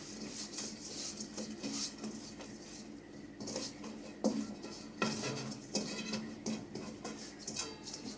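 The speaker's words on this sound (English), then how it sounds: "So all you do is just add the water into it until you get a dough mix." Water being worked into dough in a bowl, with soft squelching, scraping and the occasional knock of a utensil against the bowl, faint and irregular, close by with no talk.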